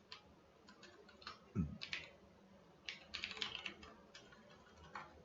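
HTML code typed on a computer keyboard, with faint, close key clicks coming in short uneven bursts and one louder knock in a quiet room.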